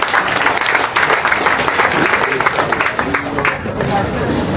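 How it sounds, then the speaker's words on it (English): Dense audience applause from staff at an electricity company management meeting, loud and continuous with crowd noise throughout, plus some background voices. "A big clap for your friend."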